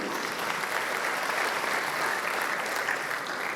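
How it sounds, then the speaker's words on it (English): Audience applause for a favorite teacher at a Class of 2024 graduation ceremony, dense, even clapping from a large crowd heard at a distance and sustained throughout. "A round of applause for her."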